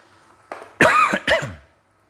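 A short burst of coughing, two or three harsh hacks close up, after a brief throat sound, then silence.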